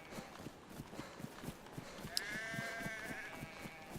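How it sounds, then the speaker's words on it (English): Sheep bleat from a flock out in the open, with a long wavering cry standing out clearly over steady outdoor background noise. "Look at all those sheep."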